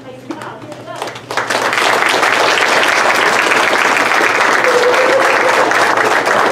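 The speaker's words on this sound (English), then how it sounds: "I want to give you one more big round of applause" An elementary school audience gives student poets a big round of applause, the clapping swelling after a second into a loud, steady, sustained roar of many hands with some voices mixed in.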